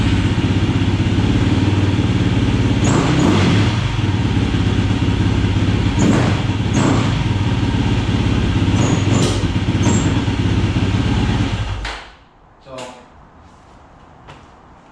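Yamaha YFZ450 ATV with a lean-running engine idling loudly with the choke on, a steady close rumble with a few sharp clicks, then cutting off abruptly near the end, leaving faint handling noise.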